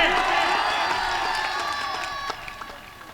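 Audience at a comic Urdu poetry recital (mushaira) in Balrampur cheering and applauding, a dense wash of claps, whoops and crowd voices that stays loud and steady before tapering slightly, with no single speaker.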